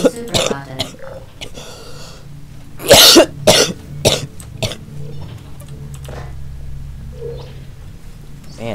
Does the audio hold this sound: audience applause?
no